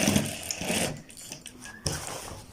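Sewing machine stitching a kid's kurta, a close, busy mechanical whir with uneven bursts and pauses as the stitching starts and stops.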